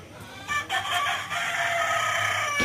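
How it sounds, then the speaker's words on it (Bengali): Sonali chickens cluck and crow close by in a farmyard, with a brief crow rising early, then steady overlapping calls continuing to the end. "কত মুরগি"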